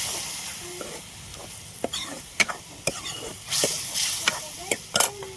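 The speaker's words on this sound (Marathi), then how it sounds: "परतून घेऊ मस्त" Chicken is sautéed in a spiced gravy in a pan, giving a steady hiss of frying broken by repeated quick scraping and clattering stirs of a spatula, close and moderately loud.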